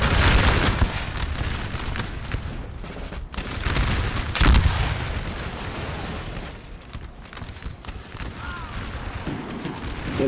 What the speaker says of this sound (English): Now we're hearing the regular volleys.